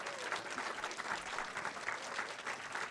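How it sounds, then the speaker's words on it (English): Audience applause at a film screening Q&A for His Three Daughters, a steady, moderately loud patter of many hands clapping throughout. "Let's have a huge round of applause, please, for his three daughters."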